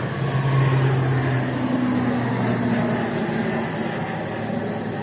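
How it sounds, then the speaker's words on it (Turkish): A jet airplane taking off from an airport, its steady engine roar filling the air and slowly easing off, with a low drone underneath and no talking. "Oo havalanır Sedo. Ha arkadaşlar havalanır."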